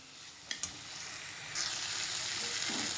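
Chopped tomato frying and hissing in a pan while being stirred, for a banana-flower curry, with a steady broadband sizzle, a couple of sharp utensil knocks early on and the frying swelling louder in the second half.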